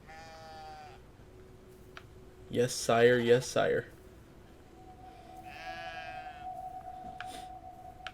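Sheep bleat in the video game Brothers: A Tale of Two Sons, a loud cluster of repeated bleats bursting out mid-clip, with voices talking before and after.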